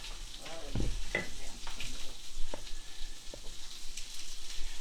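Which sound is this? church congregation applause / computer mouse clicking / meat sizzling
meat sizzling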